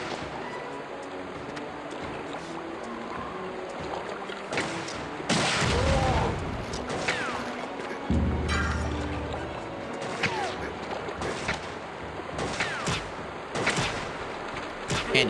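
Gunfire in the video game Turok Evolution comes as repeated sharp blasts and heavy booms spread irregularly across the stretch, some loud and close, mixed with crashes and game noise, with a voice talking at times in between.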